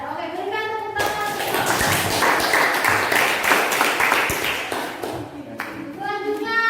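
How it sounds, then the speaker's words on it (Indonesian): A classroom group of students claps together for several seconds after a group presentation, a dense burst of applause that swells and fades, with talking just before and after it. "berikan tepuk tangan"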